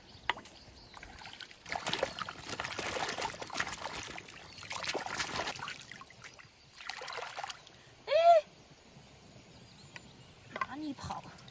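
Freshly dug potatoes being washed in water outdoors, with intermittent splashing, sloshing and trickling near by, broken by pauses, and a bird-like chirp partway through.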